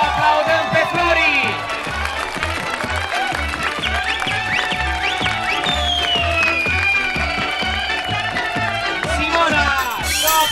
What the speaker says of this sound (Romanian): Să o aplaudăm pe Flori!